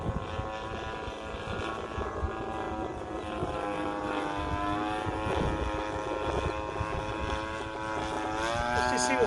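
A Seagull Models Vans RV-8 radio-controlled plane flies at medium throttle, its small engine giving a steady buzzing drone with a propeller whine that rises and falls slightly as it passes at a moderate distance, over light outdoor background noise.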